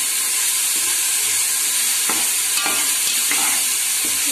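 Ginger garlic paste and dried red chillies fry in a pan, a dense, loud, continuous hiss and sizzle with a few stirring scrapes, close by and without talk.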